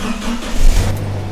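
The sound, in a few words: Toyota Hilux engine starting and running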